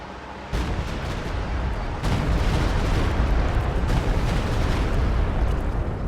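A Stuka fires in the Company of Heroes strategy game, unleashing a loud, continuous barrage of rumbling blasts that swells in waves, with fresh volleys at about half a second, two seconds and four seconds.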